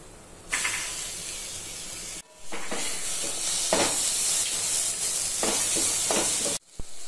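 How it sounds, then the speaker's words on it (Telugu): A medium tomato hits hot oil in a pan while cooking flattened-rice atukula pulihora, giving a loud, bright, continuous sizzling hiss that cuts out briefly twice. "ఇప్పుడు ఇందులోకి టొమాటో యాడ్ చేసుకుంటున్నాను"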